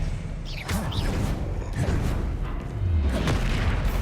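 Confringo and Expelliarmus spell blasts in the video game Hogwarts Legacy, a few booming whooshes and bursts over a dense, rumbling game mix.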